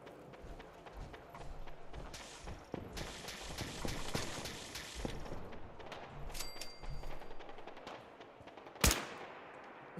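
Raiders fire guns in Fallout 4: sustained automatic-fire bursts in stretches, with footsteps and a single sharp crack near the end, all moderately distant and fairly quiet.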